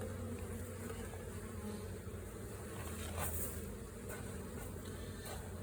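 Honey bees swarm around an opened hive during an inspection, making a dense, continuous buzzing drone with individual bees passing close by, steady and moderately loud with no talking.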